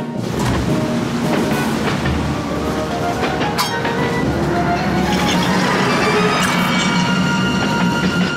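A cartoon train rumbles along continuously at loud level, with metallic clinks and clatter of the rail cars throughout a soccer-themed animated episode.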